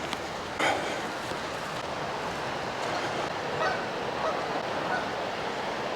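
Geese honk by the Cowlitz River, a few short calls standing out over steady outdoor background noise near grassy banks.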